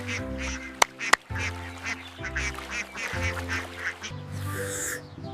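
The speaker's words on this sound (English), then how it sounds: "The ducks are cute." Ducks in a park quack repeatedly in close, loud bursts, several calls overlapping with brief gaps, two sharp clicks early on and no speech.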